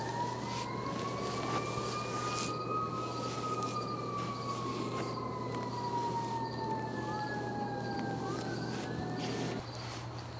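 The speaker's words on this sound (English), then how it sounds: "And can you hear the sirens?" Emergency vehicle sirens wail outside, rising and falling in long slow sweeps that overlap one another, heard at a moderate distance over a steady low hum for several seconds.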